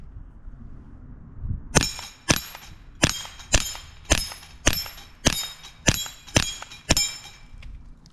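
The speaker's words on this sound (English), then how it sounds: "We got 10 shots here. We're gonna see how we do on the dueling tree." Ten sharp .22 reports from a Sig P322 pistol fired at a steel dueling tree on an outdoor range, each crack followed by a short metallic ring, spaced roughly half a second apart in a steady, even rhythm.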